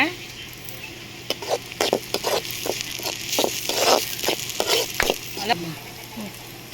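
A spatula stirs and scrapes onions and green chillies sautéing for egg podimas in a hot pan, in quick irregular strokes over a soft, steady sizzle.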